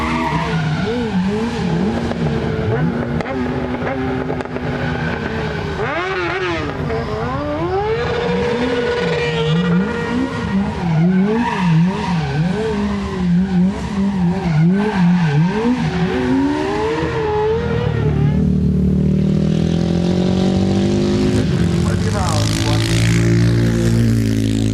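A V12 Speedster driven on a wet track at the Goodwood Festival of Speed, its engine loud and close with rising and falling revs and some tyre noise, running continuously throughout.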